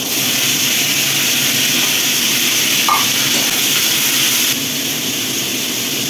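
Raw tomato frying in hot oil with panch phoron, a loud, constant close-up sizzle with a brief light clink partway through before the hiss settles slightly quieter.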